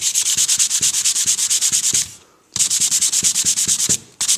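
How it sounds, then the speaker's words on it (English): Sandpaper rubs back and forth over a ceramic tile coaster in quick, even strokes, close and loud, with one brief pause partway and another near the end. "we're just going to go ahead and sand the background."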